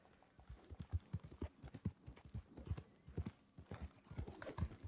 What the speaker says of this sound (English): I'm curious about this horse.